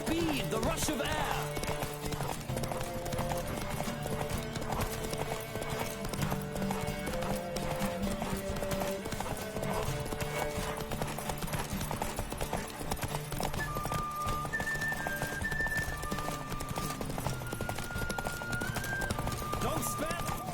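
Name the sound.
galloping horse hooves in a video game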